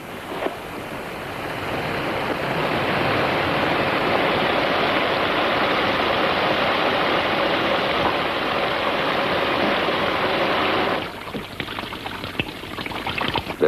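A shower runs steadily in a bathroom, a dense hiss of falling water that swells in over the first seconds, holds loud and even, then drops away near the end.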